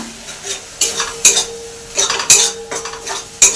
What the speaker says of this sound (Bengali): এটা ভাজা আরেকটু ভেজে নিচ্ছি